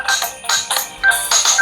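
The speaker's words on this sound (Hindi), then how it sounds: "यहाँ पे फ़ोन रिंगटोन यहाँ से आप चूज़ कर सकते हो" A smartwatch plays a phone ringtone: a loud, bright electronic melody repeating in short phrases, with brief dips between each burst and no voices.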